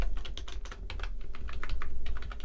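Rapid typing on a computer keyboard at close range, a dense stream of sharp plastic key clicks and taps in an uneven rhythm, with no talking.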